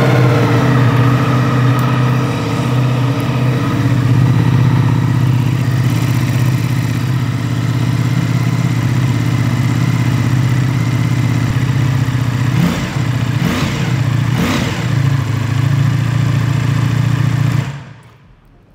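A Ducati Multistrada V4 RS touring motorcycle with a Panigale-derived V4 engine idles close by with a deep steady rumble, blips its throttle briefly a few times near the end, then cuts off.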